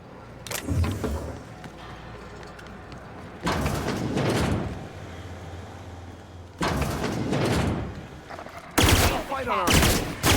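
Gunfire from a gun in The Outer Worlds video game: several loud bursts of rapid shots in separate volleys, with quieter pauses between them.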